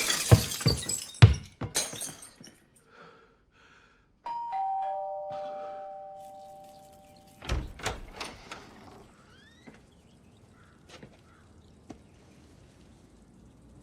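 Window glass breaking in sharp, scattered crashes with tinkling shards, followed by a brief ringing tone and a few later clatters and small impacts, fairly faint overall, with no talking.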